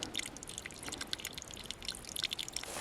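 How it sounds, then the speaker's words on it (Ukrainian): Mountain spring water trickles slowly into bottles, a faint, continuous patter of small drips and splashes with no voices. "Дуже довго набирали воду, близько пів години. Потрібно було, щоб набрати всі пляшки. Дуже повільно тече джерело."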